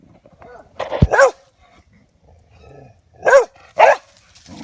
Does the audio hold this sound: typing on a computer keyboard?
no